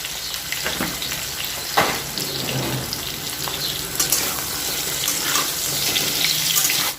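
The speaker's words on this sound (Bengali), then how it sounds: "এবার আলুটা ভালো করে ভেজে নেব" Potatoes crackle and sizzle loudly in hot oil, with watery bubbling and a few sharp spatula knocks; close, no one speaking.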